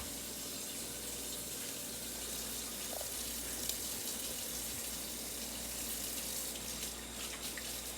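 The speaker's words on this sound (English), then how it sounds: "let me wash my hands" Hands are washed under a running kitchen tap while cooking. The water gives a soft, steady hiss that is fairly faint and carries on for the whole stretch, with no one speaking.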